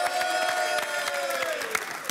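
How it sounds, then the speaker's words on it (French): Studio audience applause on a French dating game show, a brisk, steady patter of many hands clapping at moderate level, with a sustained tone and occasional sharper claps running through it. "On vous applaudit tous les deux."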